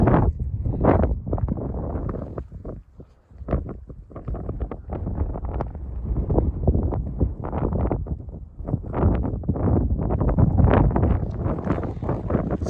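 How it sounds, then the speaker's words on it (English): Strong wind blows across a Dartmoor tor summit, buffeting the microphone in loud, close, low rumbling gusts that rise and fall continuously, with no talking. "You can see it's quite breezy up here."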